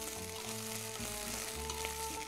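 Ginger and garlic frying in oil in a pan for chicken Murg Sindhiya, a steady close sizzle with low hum tones and faint stirring scrapes, no voices.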